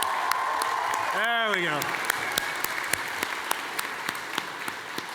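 Applause from the crowd at a national cosplay competition, with steady clapping and distinct sharp claps throughout, interrupted briefly by a loud sliding, whooping tone, and a voice speaking near the start.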